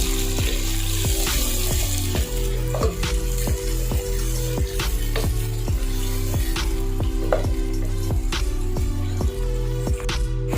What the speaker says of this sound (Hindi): टमाटर और हरी मिर्चें डाल देनी हैं। इनको 10 सेकंड के लिए फ्राई कर लेना है।